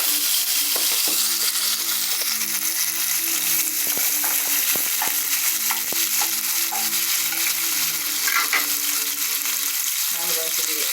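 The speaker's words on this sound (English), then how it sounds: "Here I have a little oil in my pot, and I'm going to be adding some garlic and onion and some sweet pepper." Garlic, onion and sweet pepper sizzle steadily in oil in a pot for a Jamaican callaloo dish, a continuous close frying hiss with occasional stirring clinks and taps, no talking.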